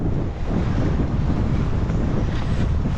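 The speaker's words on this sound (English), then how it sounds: "It's very windy right now." Steady, loud wind buffeting the microphone outdoors, a continuous low rumbling roar throughout with no talking.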